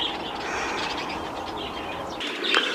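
Racing pigeon cooing softly amid general background noise, a short low murmur with a brief brighter call near the end.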